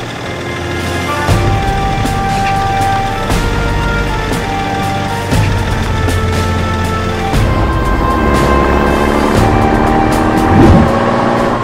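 A military vehicle drives along steadily in an animated army mission game, a loud continuous engine rumble over a musical score, with no talk.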